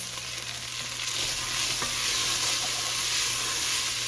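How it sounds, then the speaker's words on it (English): A whisk scrapes and stirs flour into softened onions in a pot that is 15 or 16 years old, making a steady, dense, hissing swish with faint sizzling throughout. No one speaks. "Then we are going to whisk in the flour until lightly browned, about 1 minute."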